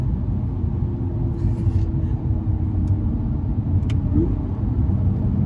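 An Audi S5 V6T coupé accelerates hard, its engine a steady, deep rumble heard from inside the car, continuous and loud with no voices.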